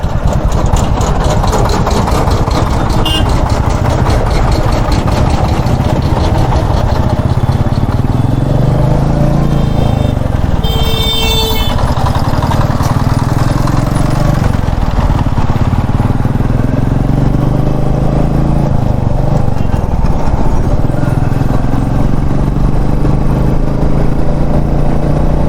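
A motorcycle engine idles steadily at close range, its low, continuous rumble rising slightly at times as though being revved, with no clear speech over it.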